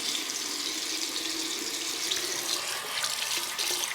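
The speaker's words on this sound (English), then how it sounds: "How refreshing is it when you wash your face first thing in the morning?" Tap water runs steadily into a sink during a morning face wash, a continuous close hiss with no talk.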